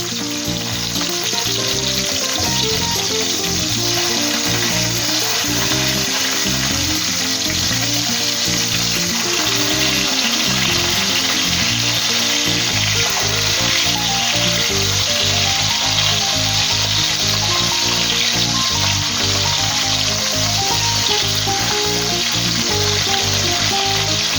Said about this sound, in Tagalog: at luto na po ang ating pritong galunggong